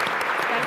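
Audience applause at a town hall event on inequality in America, a short burst of many hands clapping, loud and close, with some voice mixed in beneath.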